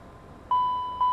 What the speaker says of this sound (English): Smoke detector. Smoke detector is back here.